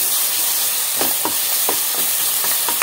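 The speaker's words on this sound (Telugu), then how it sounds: "మనం రెడీ చేసి పెట్టుకున్న మసాలాని వేసేసేద్దామండి. చక్కగా కలిపేసేసుకుందాం." Masala being stirred into a chicken and mango curry in a hot pan, a steady sizzle and hiss with several soft scraping strokes of the spoon, close and without talk.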